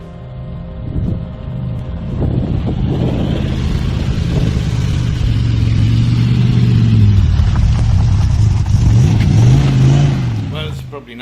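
A Lancia Stratos replica car rolls out of a garage with a loud engine that rises and falls in pitch as it revs and pulls away, then cuts off near the end.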